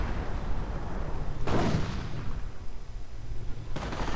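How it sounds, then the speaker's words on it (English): Mortar rounds landing in a WWII real-time strategy game, a single heavy booming impact that rolls out over a steady noisy battle bed, with another burst cut short at the end. "Mortar rounds keep falling, and the mortar's definitely doing its job."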